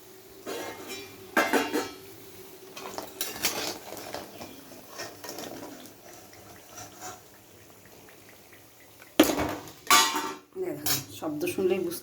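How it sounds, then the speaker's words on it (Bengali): Crispy fried cauliflower pakoras are lifted from a frying pan with a metal utensil, bursts of scraping and clinking against the pan separated by quieter stretches of low sizzling, close and moderately loud. "আমি এখন তুলে নিচ্ছি।"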